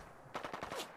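A rapid burst of automatic rifle fire from a modded M2045 rifle in Fallout 4, roughly six quick shots in a tight rhythm, clear and punchy after a brief quiet lead-in.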